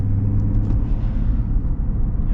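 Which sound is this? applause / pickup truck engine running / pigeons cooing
pickup truck engine running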